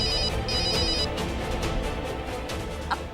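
A phone ringtone plays for an incoming call in a home, a steady repeating electronic melody at moderate level, alone without voices.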